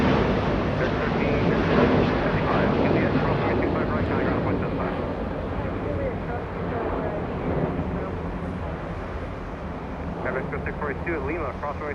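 Aeromexico Boeing 737 jet arriving at Los Angeles International Airport, a broad sustained engine roar that slowly fades, heard from a distance with people talking over it throughout.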